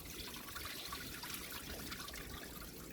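Water runs steadily from a tap while chicken feet are washed for Jamaican coconut curry, a constant trickling splash close by with no talk.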